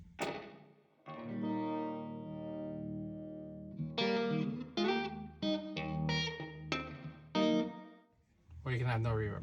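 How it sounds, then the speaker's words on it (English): Electric guitar played through an RJM PBC6X pedalboard rig with reverb switched on, a sustained chord ringing out followed by several picked notes and short phrases, each trailing into a wash of reverb, close and moderately loud. "If we were to turn on the reverb, which you can at any time because it's on there"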